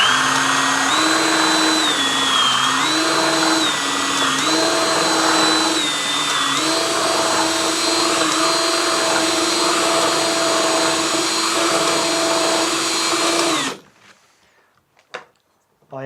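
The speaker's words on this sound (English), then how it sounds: "If I now wrap the sandpaper around the spar and turn on the drill," Electric drill spinning a wooden spar for a Thames sailing barge model, with sandpaper wrapped around it to round the spar; a steady, loud, whining motor drone runs for about fourteen seconds, then cuts off to near silence with a couple of faint knocks.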